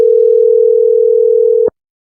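A steady telephone dial tone sounds loud and unbroken on an outgoing call, then cuts off abruptly and leaves silence.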